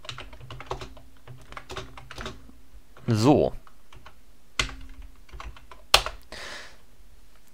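Computer keyboard typing while JavaScript code is written, with rapid soft clicking keystrokes throughout, a few louder clacks, and someone speaking briefly over it.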